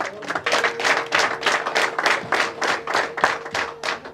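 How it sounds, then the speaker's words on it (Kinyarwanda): An audience applauds guests at a Rwandan family ceremony for receiving a gift of a cow, a steady, dense clapping that runs throughout with brief swells and dips, close and loud. "Mumpera amashyi ku bw'aba bashyitsi batugendereje"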